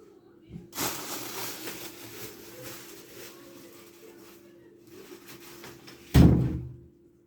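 An indoor door pushed shut lands as a single solid thud near the end, after a stretch of quiet room tone with faint background murmur.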